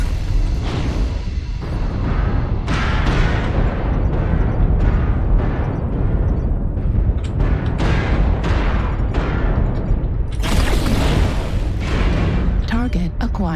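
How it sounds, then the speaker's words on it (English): In a mech combat video game, artillery strike explosions boom one after another in rapid heavy blasts that overlap into a continuous barrage, loud and close, with a game voice speaking over them. "Artillery strike online."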